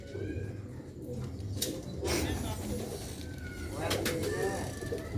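Sialkoti rooftop pigeons, a newly paired male and female, give repeated soft cooing calls in short bursts over a steady low background murmur.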